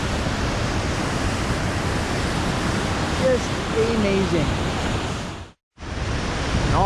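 A waterfall in Colombia sends a steady, broadband roar of rushing water close by, filling the whole clip apart from a brief cut near the end, while a voice speaks briefly over it.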